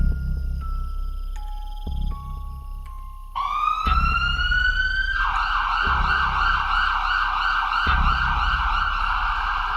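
An ambulance siren wails loud and close, first in stepped tones and then in a steady rising-and-falling electronic sweep that repeats over a low rumbling engine bed.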